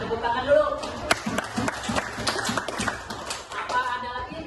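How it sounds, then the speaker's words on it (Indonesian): Schoolchildren in an Islamic studies classroom clap in a short burst of uneven claps close by, with talking and chatter from the room around them. "tepuk tangan dulu."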